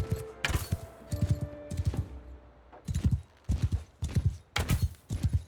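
Hooves pound in rapid galloping clusters as a horse runs in Mount and Blade 2 Bannerlord, loud and close, with rhythmic bursts repeating across the clip over a low background rumble.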